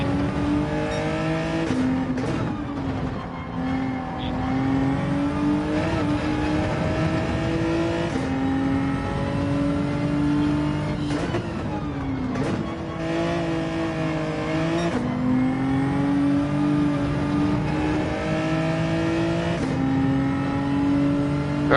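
A race car engine in an online racing game screams loudly and continuously, the pitch climbing through each gear and dropping sharply at every upshift or braking point, with a repeating rhythm of acceleration over the lap.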